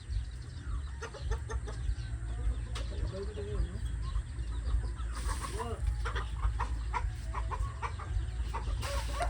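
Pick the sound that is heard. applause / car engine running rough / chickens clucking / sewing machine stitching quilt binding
chickens clucking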